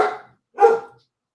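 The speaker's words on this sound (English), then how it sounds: "She starts barking, and my dog has to bark." A dog barks twice indoors, two loud, close barks about half a second apart with silence between and after.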